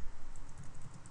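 Quick, light keystrokes on a computer keyboard as a password is typed, a brief close run of soft clicks with no talking.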